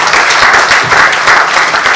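An audience claps enthusiastically at a grant-giving event for petty traders, with dense, continuous applause that holds at full strength throughout the short burst.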